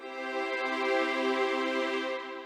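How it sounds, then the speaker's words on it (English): A single sustained chord in a basic closed voicing, part of a string-style arrangement, rings steadily for about two and a half seconds and then fades slightly, heard alone without talk. "Compare that to our original closed voicing."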